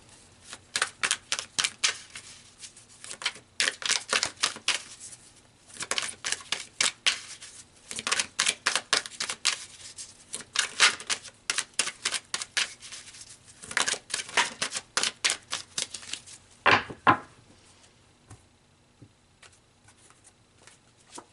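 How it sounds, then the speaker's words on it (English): Tarot cards shuffled again and again in quick, crisp riffling bursts, steady and close, with a louder slap near the end as a card is drawn. There is no talk. "So let's pull some more cards."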